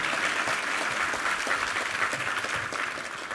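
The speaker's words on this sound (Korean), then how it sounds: "우리 하나님께 감사와 영광의 박수 올려드리겠습니다" Church congregation applauding God after a Sunday sermon reading from Esther, dense sustained clapping filling the room at a steady, fairly loud level before tapering slightly at the end.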